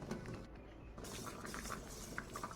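Water boiling in a pan used as a double boiler to melt soap base, a steady faint bubbling patter with no talk.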